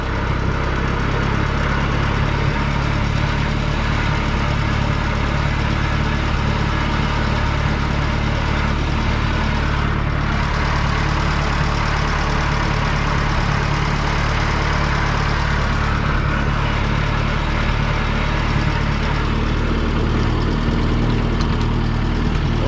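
An Oliver Super tractor engine running steadily after start-up, a loud, continuous low rumble and vibration that holds unbroken for the whole stretch, with no voices.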